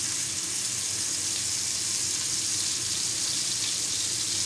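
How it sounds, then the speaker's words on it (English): A loud, steady sizzle of a burger frying in a hot pan, a dense hissing crackle that continues without pause. "Hear it sizzle as soon as it hits the pan."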